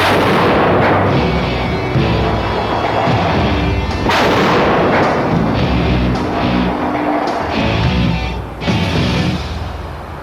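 A Statnamic foundation load test fires outdoors for a future bridge, a loud deep blast followed by a long roaring rumble with further thumping bursts at close range.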